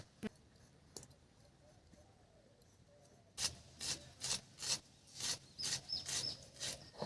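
Ingredients for a Sundarbans crab curry being ground into paste on a grinding stone: a steady series of rhythmic, close, rasping strokes after a quieter start, with faint birdsong in the background.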